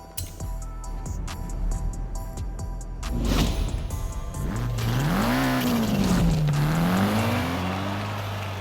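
Nissan S13 in Forza Horizon 5 on a mountain touge road, engine note rising and falling under acceleration with tire squeal as the car drifts, loud and continuous with no talking.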